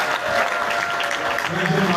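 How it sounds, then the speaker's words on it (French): Applause from a congregation at a church consecration ceremony celebrating an anniversary, steady clapping throughout with voices talking over it and a low murmur near the end. "Applaudissez pour lui."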